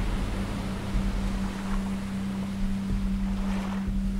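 A boat rides ocean waves in the Stranded Deep game, with a steady low engine hum under broad washing water and wind noise, swelling slightly as waves pass, no talking.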